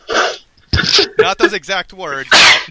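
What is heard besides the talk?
sneeze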